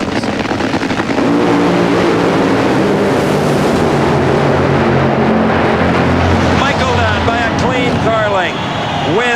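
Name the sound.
funny car drag race run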